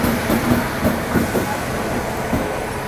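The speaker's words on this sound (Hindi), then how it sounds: "अभी देखो ये आ गई अगरतला तेजस राजधानी एक्सप्रेस यहाँ पर प्लेटफॉर्म नंबर 2 पे" An Agartala–Anand Vihar Tejas Rajdhani Express hauled by a WAP-7 electric locomotive pulls into platform 2, a steady loud rolling rumble with rhythmic wheel clicks over rail joints, close by and continuous, no talking.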